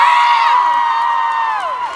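Audience at a live show in Freehold, NJ cheers and whoops loudly for supportive parents, a steady wall of high, rising and falling shouts that carries on for the whole moment.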